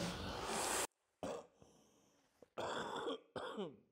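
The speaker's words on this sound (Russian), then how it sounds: "Хороший кашель, береги его. Кашель вообще ужасный." A man coughing harshly, a few loud separate hacks and throat-clearing bursts with quiet gaps between them.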